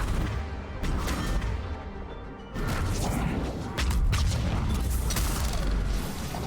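Explosions and crashing impacts from combat in the video game Mass Effect 3 Legendary Edition come in several loud, dense bursts with mechanical clatter between them and no talking.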